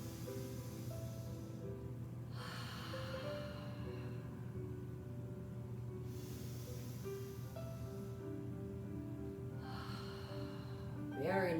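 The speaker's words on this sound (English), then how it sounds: "nice big breaths" Several slow, deep breaths in and out during a stretching session, each a soft rushing breath spaced a few seconds apart under a faint steady background hum.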